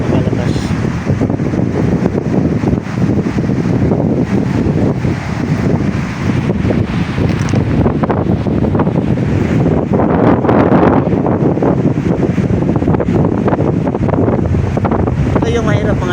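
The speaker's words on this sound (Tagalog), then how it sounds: "Siguro naririnig nyo yung ihip ng hangin o mga idol" Strong wind gusts roar steadily against the microphone on the seashore at Lanusa, Tandag, Surigao del Sur, with surf and waves mixed into a loud, continuous rushing blast that barely lets up.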